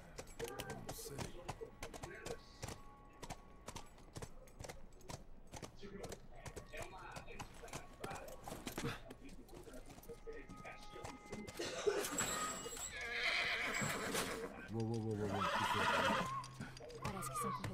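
Horse hooves clip-clopping and a horse neighing in the video game The Last of Us, with steady rhythmic hoof beats through most of the stretch and whinnies near the end, mixed with game sounds and voices talking.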